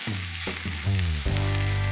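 Vegetables roasting with a little oil on a flat griddle give a close, steady sizzle that runs continuously and grows slightly louder partway through.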